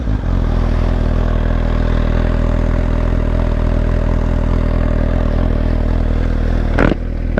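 A motorcycle fitted with a Yoshimura Alpha exhaust with the baffle removed idles loudly and steadily up close, a deep, even rumble that briefly dips near the end.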